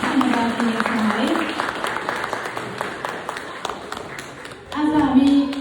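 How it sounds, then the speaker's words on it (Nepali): A church anniversary congregation claps in thanks to God, scattered rhythmic clapping running under a man's sung or spoken voice, with louder voices rising near the end. "हामी सबैजनाको लागि ताली बजाएर परमेश्वरको लागि पनि ताली बजाएर हामी धन्यवाद दिन्छौँ"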